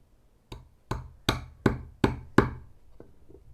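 A carving gouge is tapped into a wooden bowl with six sharp, evenly spaced knocks, each ringing briefly, followed by a couple of fainter taps.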